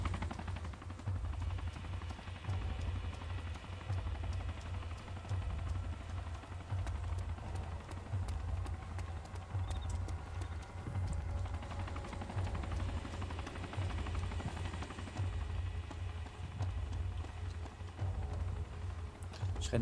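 A helicopter in the video game DayZ drones steadily with a loud, continuous low rotor rumble through the whole stretch, with faint clicking and game noise layered on top.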